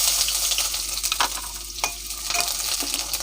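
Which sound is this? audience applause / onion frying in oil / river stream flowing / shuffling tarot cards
onion frying in oil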